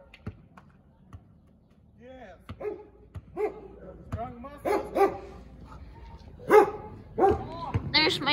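A dog barks several times in short bursts, some close and loud, amid a basketball bouncing and people talking and shouting outdoors.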